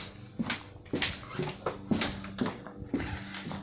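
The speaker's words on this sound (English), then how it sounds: "Dog." A dog whimpering close by, a series of short, high, plaintive whines repeating roughly every half second, with light movement noise around them.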